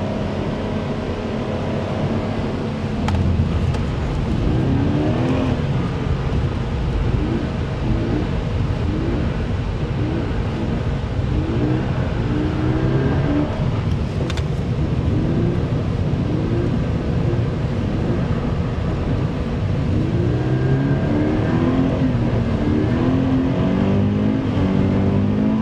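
A car driving on the Michelin Ladoux circuit, with a steady, loud engine drone and rising and falling revs heard from inside the car, accompanied by tyre and road noise and no clear talk.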